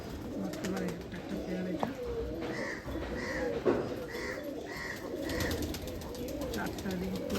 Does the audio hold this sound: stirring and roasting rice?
no